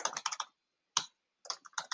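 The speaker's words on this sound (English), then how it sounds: "my typing needs a little work today" Computer keyboard typing comes in short, close bursts of quick clicking keystrokes, with a single isolated tap between two flurries and brief silent gaps.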